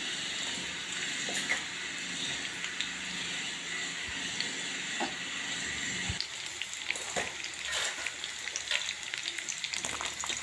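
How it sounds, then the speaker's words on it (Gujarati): Red and green chillies, garlic cloves and onion frying in hot oil, a close, continuous crackling sizzle with irregular pops and occasional stirring scrapes. "2 મરચાં, 1 લાલ અને 1 લીલું મરચું, 2 લસણની કળી અને 2 ચમચી ડુંગળી શેકી નાખું છું"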